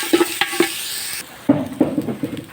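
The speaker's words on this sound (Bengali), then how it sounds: "এখন চালগুলো ভালোভাবে ভেজে নেব" Rice is fried and stirred in a pot for beef biryani, with a soft sizzle under a series of distinct spoon scrapes and knocks against the pot, irregular and close.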